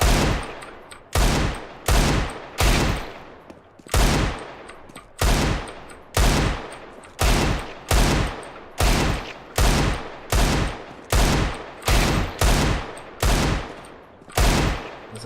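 In Counter-Strike: Global Offensive, a gun fires in short bursts of loud, close shots, roughly one burst per second in a steady repeating rhythm, with no voices.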